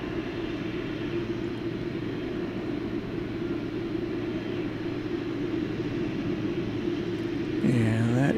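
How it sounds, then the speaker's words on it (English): A United Boeing 737 Max 8 departing Dallas Fort Worth airport at night gives a steady, broad jet roar from a distance that holds throughout, swelling slightly near the end. "There's United, Max 8. That's off to San Francisco."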